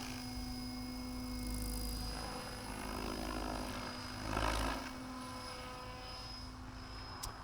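An XLPower Protos 800 Max V2 RC helicopter flying a short, gentle flight, its steady rotor and motor whine holding at moderate distance with a brief louder pass midway, no talking.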